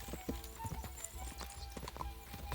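Horse hooves clip-clop at a brisk pace in the video game Kingdom Come: Deliverance II, a rhythmic run of hoofbeats with faint clatter and background game sound, no talk over it.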